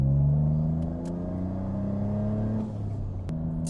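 Toyota GR Corolla fitted with an AWE Tuning single center-exit exhaust, idling and revving in a shop, giving a loud, deep, steady drone with a brief blip of throttle near the end.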